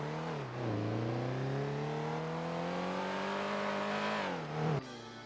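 Car engine in a GTA roleplay game revving steadily, pitch climbing and holding through a long pull, then dropping abruptly near the end as it shifts or lets off; loud and close, no talk.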